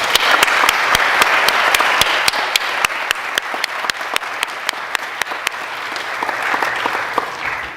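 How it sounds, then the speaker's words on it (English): An audience at a Grade 8 recognition ceremony gives sustained applause, dense steady clapping from many hands lasting throughout, with a few distinct sharp claps standing out. "Let's give them a round of applause."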